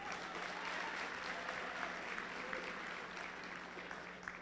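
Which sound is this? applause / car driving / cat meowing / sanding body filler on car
applause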